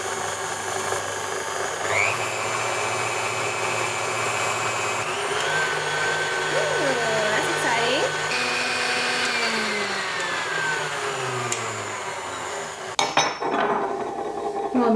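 A new KitchenAid stand mixer runs steadily on speed 2, a continuous motor whir with a faint clatter of the beater, level and close throughout before a brief knock near the end.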